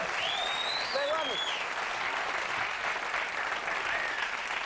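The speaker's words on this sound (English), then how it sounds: "I thank you for your applause," A late-night television studio audience gives continuous, even applause, with a few whoops and whistles rising above it.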